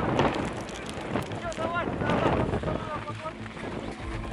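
A strong wind, around 15 metres per second, sweeps across the Arctic tundra of Chukotka, roaring and buffeting the microphone in loud, continuous gusts while someone talks over it.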